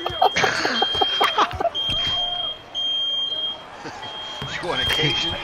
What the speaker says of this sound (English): that fire alarm going off all the time